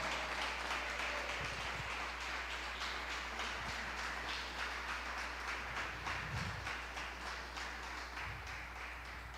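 Steady crowd applause at a church service fills the whole stretch, a dense, even clatter of many hands clapping with no voices over it.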